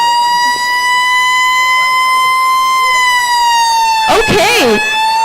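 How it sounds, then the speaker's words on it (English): A fire truck siren wails loud and near, a steady sustained tone with rich harmonics, joined near the end by a short burst of a sweeping yelp. "So that's fire truck siren."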